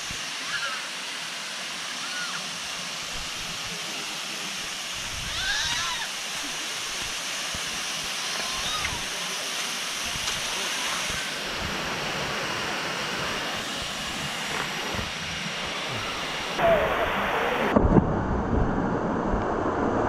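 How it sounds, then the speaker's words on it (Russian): Jungle waterfall on Koh Samui, Thailand, a steady broadband roar of falling water close by, with brief voices and small handling bumps near the end. "И вот сам водопад."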